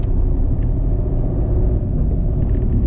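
Steady, loud low rumble of a car driving along a road, with continuous engine and tyre noise throughout and no voices.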